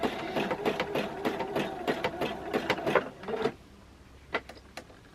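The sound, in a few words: sewing machine stitching fabric rope bowl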